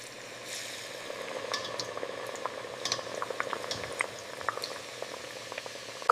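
French fries bubble in hot oil during their first fry, giving a steady, close, soft boiling hiss with scattered crackling pops and no voices.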